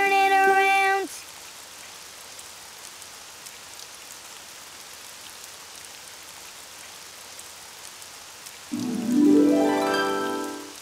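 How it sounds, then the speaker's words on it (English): Steady patter of rain fills the whole clip, with a brief tonal cry at the start and another at the end. "it's raining outside"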